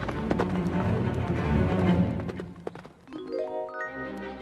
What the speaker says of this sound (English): He threw Snow White onto a horse